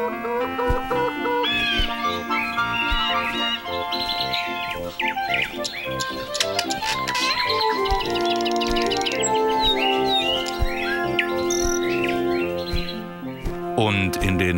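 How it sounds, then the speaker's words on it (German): Many birds chirp and tweet continuously over a dense, busy layer of music, with fowl-like clucks mixed in; the calls stay loud and steady throughout with no speech. "Und noch mehr Vögel."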